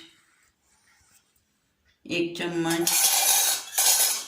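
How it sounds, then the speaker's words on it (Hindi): A spoon dry-mixing four flours, including rice flour, in a metal bowl for multigrain khaman: faint quiet scraping at first, then loud clattering and clinking of spoon against bowl. "ये चारों आटों को हमें अच्छे से मिलाना है, सूखा ही।"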